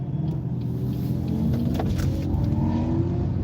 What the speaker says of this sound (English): That was the Corvette.